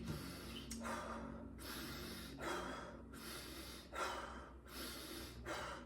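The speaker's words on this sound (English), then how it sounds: "holotropic breathing is very controlled, fast, inhale and exhalations" Fast holotropic breathwork, controlled inhales and exhales in a steady rhythm of about five airy breath bursts separated by short pauses, close and clear with no talking.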